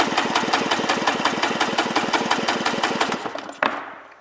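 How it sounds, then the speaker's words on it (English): A 1996 Polaris SLX 780 watercraft engine cranks over on the starter during a compression test, giving a steady, rapid chugging pulse for about three and a half seconds before cutting off abruptly, with no voices. "Going to do an engine compression test."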